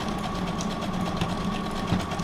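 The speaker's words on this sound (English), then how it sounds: "sewing machine with decorative stitches, you use it" A sewing machine runs a decorative stitch, giving a steady mechanical whir with a quick, even rhythmic clatter. The sound is close and moderately loud, with no talk over it.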